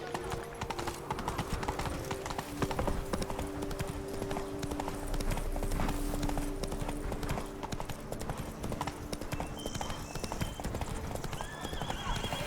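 Hooves beat in a fast, steady clip-clop as a horse gallops in The Witcher 3: Wild Hunt, and a short whinny rises near the end. The game's ambient sound plays under the hoofbeats.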